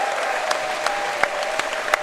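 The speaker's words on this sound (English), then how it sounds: "a big hand to the American team that travelled" Applause for the visiting American team at the World Wallball Championship, a steady crowd clapping with a few sharper claps standing out, continuous and fairly close.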